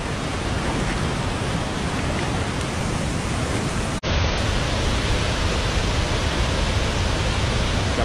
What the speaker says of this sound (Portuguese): Aquela cascata, aquilo ali não existia.